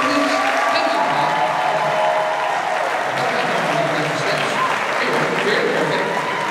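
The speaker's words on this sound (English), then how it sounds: "This audience is going to start applauding really loud." An audience at a resort hypnosis show applauding loudly, a dense continuous wash of clapping that holds steady for several seconds and eases slightly toward the end.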